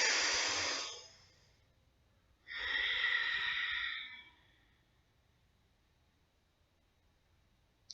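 During a guided meditation, a person takes two slow, close breaths in and out through the nose. Each one is a soft airy hiss lasting about a second or longer, followed by quiet.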